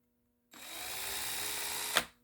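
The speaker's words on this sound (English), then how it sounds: "I just took those wheels and I chucked them up in this drill. It's a cordless" A cordless drill spinning model car wheels starts abruptly, whirs steadily at close range for about a second and a half, then cuts off with a brief click.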